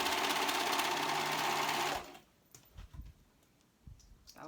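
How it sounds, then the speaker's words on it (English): A serger sewing machine overlocks the seam of a tee shirt in a loud, steady, fast whir for about two seconds, then stops, leaving faint clicks and handling noises. "I'm just serging all the way around"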